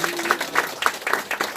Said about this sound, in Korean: 이상석 교수님께 큰 박수 부탁드리겠습니다.